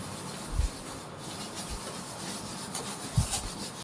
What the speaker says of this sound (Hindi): सो लेट मी रब द अपर पार्ट।